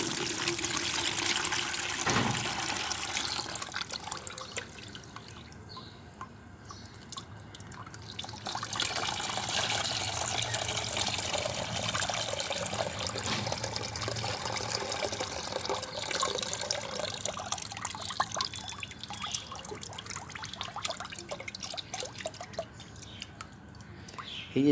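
Orange peel soaked in water is strained into a container, a steady close trickle and splash of pouring liquid running through most of the stretch, with no talk over it.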